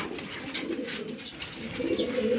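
Racing pigeons in a home loft give soft, low, rolling coos that continue steadily for a couple of seconds beneath faint background noise.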